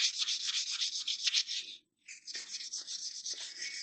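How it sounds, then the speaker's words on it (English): Rhythmic rubbing strokes of sandpaper on a metal motorcycle engine case, close and continuous, with one brief pause before the scraping resumes. "if your case needs heavier sanding, you just use heavier sandpaper"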